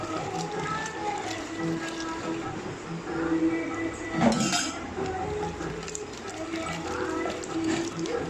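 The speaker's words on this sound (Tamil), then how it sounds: "இப்போ வந்து இந்த பருப்பாமத்து வச்சு இதை வந்து நல்லா கடையணும்" A wooden dal masher churns and grinds cooked mixed greens for Tamil keerai masiyal. It makes a steady run of close scraping and clinking strokes against the pot, with a faint voice in the background.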